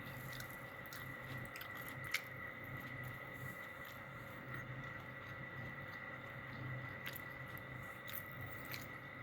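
Soft wet chewing and squishy mouth sounds from someone eating a meal with soup by hand, close and quiet, continuous for several seconds with faint clicks and no talking.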